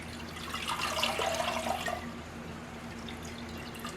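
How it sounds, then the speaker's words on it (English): Liquid with tomato seeds pours through coffee filters set in a sieve, a soft continuous trickle and patter of draining water, strongest early then settling into a quieter steady drip. "I put just some coffee filters in here, And just pour it right through."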